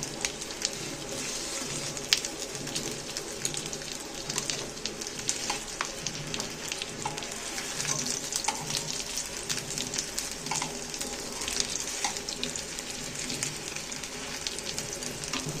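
Egg and potato frying in a pan, a continuous crackling sizzle with scattered sharp pops and spits, steady and fairly close, with no voices.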